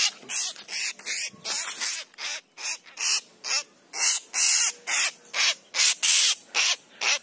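Harsh, rasping calls of an Oriental magpie-robin repeat in a steady rhythm, about two per second, fairly close and loud, with no other sounds between them, at six in the morning.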